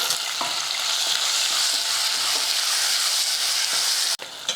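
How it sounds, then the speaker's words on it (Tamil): Onion and tomato sauté in a pan with steady sizzling and frying, continuous and close, with faint stirring scrapes and a brief clatter near the end. "வெங்காயம் தக்காளி பாருங்கள் நல்லா வதங்கிருச்சு"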